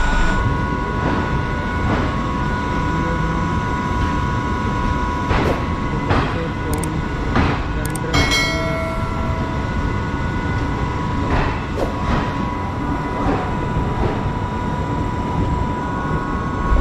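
Passenger train running at speed, heard from inside an empty coach: a steady broad rumble with rhythmic wheel clicks and occasional sharp rattles from fittings, with no talking.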